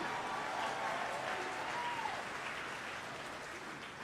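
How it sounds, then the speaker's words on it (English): A large audience applauds at a school commencement ceremony, heard as a steady, fairly distant wash of clapping that holds at an even level for a few seconds. "You can clap for that too if you like."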